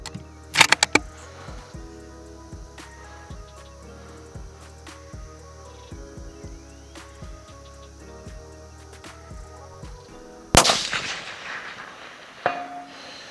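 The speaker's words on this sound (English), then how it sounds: "I got an impact on that first one, but you have to keep in mind the steel that I'm shooting at is rather large" Rifle fire at large steel target plates set at long range: a few sharp reports near the start and one loud shot later, with faint distant metallic pings and quiet ringing in between.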